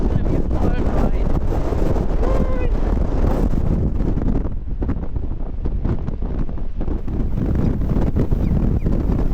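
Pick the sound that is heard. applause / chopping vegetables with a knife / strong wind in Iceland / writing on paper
strong wind in Iceland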